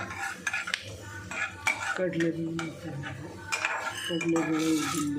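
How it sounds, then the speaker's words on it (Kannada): Black peppercorns roasting in a pan for okra gojju, stirred with a metal spoon that scrapes and clinks against the pan in quick, close, uneven strokes, with no voices. "ಕಾಳು ಮೆಣಸನ್ನು ಕೂಡ ಅದರಲ್ಲಿ ಹುರಿಬೇಕು."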